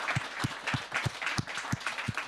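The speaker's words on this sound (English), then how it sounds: "please join me in a huge round of applause for our brilliant presenters this evening" Rhythmic clapping from a small crowd applauding presenters at an evening event, steady and fairly close, with sharp individual claps repeating through the whole stretch.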